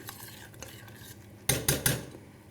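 A sticky honey and sugar mixture is stirred in a pan, with soft scraping followed by three loud, quick clanks of a utensil against the metal, and no speech.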